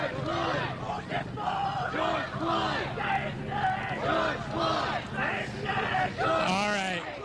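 Protest crowd chanting in unison at a 2020 Black Lives Matter march on O Street in Lincoln, Nebraska, a loud sustained rhythmic chant of many voices filling the street.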